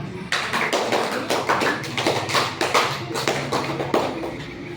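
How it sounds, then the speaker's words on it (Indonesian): Group hand clapping during a physical education class session, a run of sharp, fairly close claps in an uneven rhythm with some clusters, loud and mostly without talk. "Tuh, tepuk tangan."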